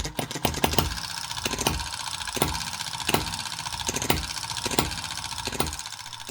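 A miniature hit-and-miss petrol engine runs steadily close by, its loud regular firing beats spaced about once per second over a continuous mechanical chatter.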